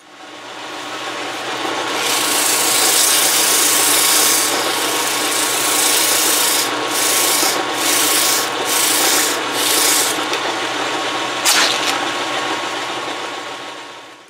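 Rasping strokes of a hand saw cutting slots into a metal lathe spindle expander, a loud, steady rubbing sound running almost the whole way through with a few short breaks near the end.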